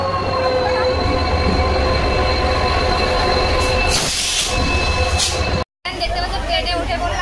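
A train running along the track after passengers have boarded, with a steady loud rumble and wheel noise throughout, a brief squealing swell midway, and a short dropout near the end; no one speaks.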